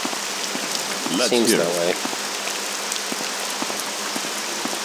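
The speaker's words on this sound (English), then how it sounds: "Is that all it does here is rain?" Steady rain falling in the video game Morrowind, a constant dense hiss of drops on surfaces with a few louder ticks, while someone speaks briefly over it.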